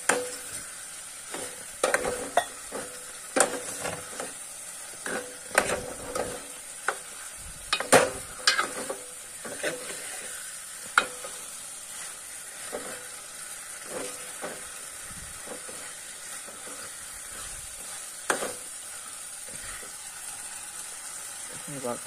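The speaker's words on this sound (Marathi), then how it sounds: "मस्त ग्रेव्ही मध्ये हे करून घेऊ नाही का उलट पालट करून" Fish curry is stirred in gravy, with soft sizzling and steam under repeated scraping and clattering strokes of a spoon in the pot. A person talks intermittently nearby.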